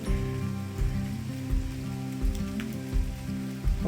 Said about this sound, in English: We're back in the cave. It's raining out here.